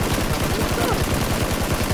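Rapid automatic gunfire in the PUBG video game on the Miramar desert map, a dense, evenly spaced burst of shots emptying a full magazine, loud and close for the whole stretch.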